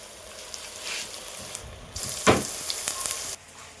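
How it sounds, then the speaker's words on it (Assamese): Ginger garlic paste frying in hot oil for a village chicken gravy: a steady, close hiss of sizzling with a louder spitting flare midway, then the sizzle drops off abruptly near the end. "আদা নহৰু পেষ্টটো ফ্ৰাই হৈ লওক।"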